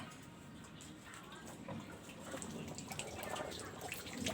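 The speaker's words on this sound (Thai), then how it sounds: "ตัวนี้ก็จะปล่อยน้ำทิ้งเลยนะครับ" A Samsung top-load washing machine draining its water, a steady low gurgling rush with trickling and dripping that swells slightly louder toward the end, with no talk.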